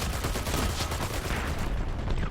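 Gunfire rattles continuously in a video game match, with dense bursts and explosions that keep the sound loud and crowded without a break.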